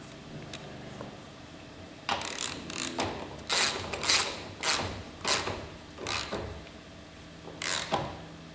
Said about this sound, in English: Once the washer's on, we can then wind the nut on.